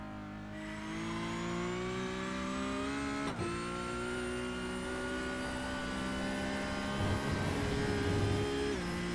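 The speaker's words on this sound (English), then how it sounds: "hard onto the brakes again into Arnage" Race car in a sim racing game at Spa-Francorchamps, its engine note climbing steadily through the revs, dropping sharply once as it brakes and downshifts, then winding up again, loud and continuous with no talk.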